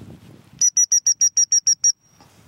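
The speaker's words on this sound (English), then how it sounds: "you have to hold the whistle in your teeth and just be real sharp with your commands" A gundog training whistle blown in a rapid series of nine short, even, piercing pips to recall the dog, loud and close, preceded by faint low background rumble.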